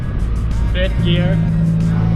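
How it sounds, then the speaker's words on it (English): A supercharged Geo Metro cruising in fifth gear at about 40 mph, heard from inside as a steady low engine hum with a rising tonal drone while a person talks over it. "I'm doing 40 miles an hour in fifth gear."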